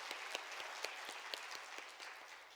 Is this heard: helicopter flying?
no